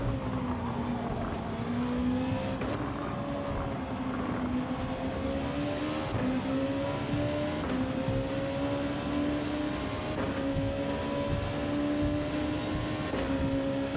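Race car engines in Gran Turismo 7, a steady droning whine that rises and falls with gear changes, holding constant and fairly close throughout.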